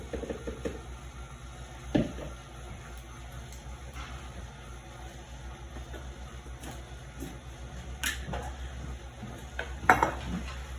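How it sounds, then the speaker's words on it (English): A utensil scrapes around a mixing bowl in a kitchen, quiet scraping and scuffing with a few sharper clinks at intervals. "I'm going to keep scraping this bowl."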